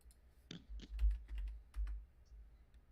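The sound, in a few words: typing on a computer keyboard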